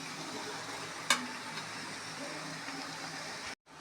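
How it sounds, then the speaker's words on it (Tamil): Rice and paneer being stirred into vegetables in a kadai for tawa pulao, a soft steady sizzle with one sharp metallic clink of the spoon, cutting off abruptly at the end. "ரைஸ் போட்டு மிக்ஸ் பண்ணியாச்சு."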